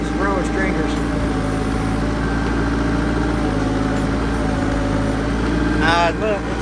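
Old tractor engine running steadily while lifting roller stringers at a pole barn build, a constant mid-pitched drone close by, with occasional faint squeaks and people talking over it.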